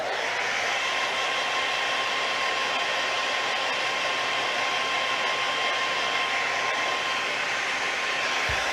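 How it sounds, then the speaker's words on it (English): A hair dryer heating a copper 3D mask assembly blows steadily at close range, a constant whooshing roar with a faint whine that never changes for the whole stretch. "I'm kind of holding the hair dryer angled away from that."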